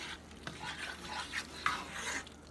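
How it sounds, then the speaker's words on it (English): A spoon stirs thick cheesy sauce in a pan, giving soft, close scraping and swishing strokes in an uneven rhythm with no talk. "And we'll just keep stirring."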